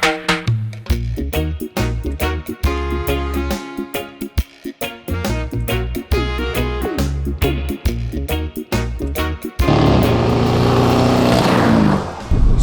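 A BMW 5 Series with a 700 hp twin-turbo N63 V8 driven hard on a canyon road, loud close engine pulling through rapid revs and gear changes, ending in a sustained roar.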